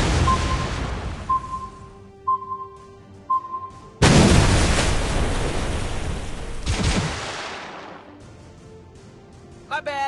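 In the naval video game World of Warships Blitz, a tier-six Bayern warship is hit: short beeping alert tones, then a loud heavy explosion followed by a second blast that fade into rumbling noise.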